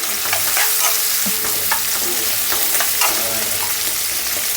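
Onions sizzling loudly in a pan for masala dosa filling, a constant close frying hiss broken by the scrape and clatter of a spoon stirring through them.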